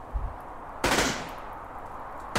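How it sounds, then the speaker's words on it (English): A laser rifle fires in the battle game Ultimate Epic Battle Simulator 2, two separate bursts of sharp, bright noise about a second and a half apart, with a softer thump near the start and a faint background hum. "He's got his little laser rifle."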